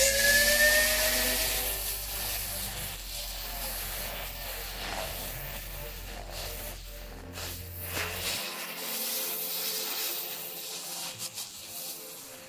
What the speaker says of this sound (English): see that we can also drill it for ourselves.